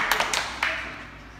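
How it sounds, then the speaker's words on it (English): A handful of sharp, quick claps, four or five close together, then a single louder clap, fading quickly afterward in a quiet room. "Give them a clap for the break."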